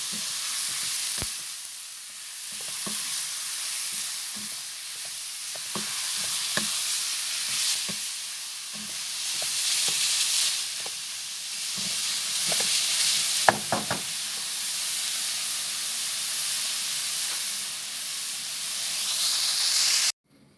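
Pork menudo with added water heats toward a boil in a pot, a steady hissing bubble broken by scattered small pops and clinks throughout.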